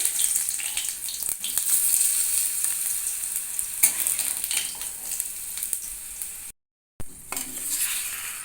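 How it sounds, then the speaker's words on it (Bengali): Potatoes frying in hot oil over a full gas flame, a steady crackling sizzle with occasional stirring clatter, briefly cut to silence near the end before the sizzle resumes. "আলুগুলো একটু লাল করে ভেজে নিতে হবে গ্যাসের ফ্লেমটাকে ফুল করে দিয়েছি"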